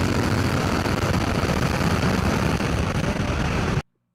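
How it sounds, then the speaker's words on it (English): An H3 rocket's main engine roars at launch, heard as a loud, dense, steady rumble that fills the whole clip before cutting off abruptly near the end. "Main engine start."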